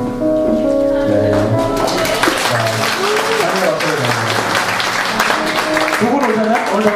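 A church congregation applauds first-time visitors during a worship service, with steady clapping swelling under music and voices.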